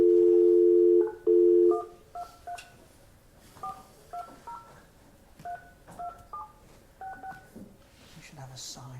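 Telephone keypad tones during a board of commissioners meeting held by conference call: a long dial tone, then a steady run of short DTMF beeps pressed one after another, fairly close and clear with faint room noise behind.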